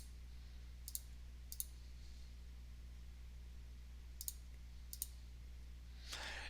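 Mouse clicks on a computer, sharp and close in quiet room hiss: two single clicks near the start, another pair a few seconds later, then a brief soft rustle at the end.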